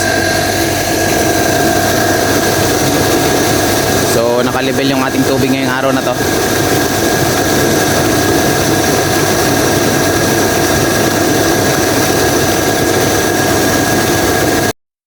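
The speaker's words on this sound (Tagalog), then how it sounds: "pasensya na kayo, ingay yung motor natin yan" A water pump motor for a fish tank filtration system hums and drones steadily, with tonal whine lines, while someone talks over it close by.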